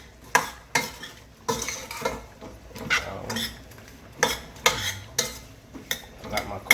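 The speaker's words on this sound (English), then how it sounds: "Stir it around, saute, flames up a little bit more." Vegetables for a Jamaican Rasta vegan stew are stirred and sautéed in a pot over the flame: a utensil scrapes and clinks against the metal in repeated close strokes over a low sizzle.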